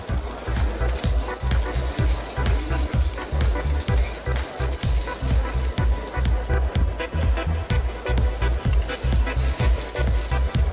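Food sizzles and fries over moderate heat in a Demeyere teppanyaki pan, a close, steady crackle pulsing in regular rhythmic bursts, as if stirred or pressed, with no voices.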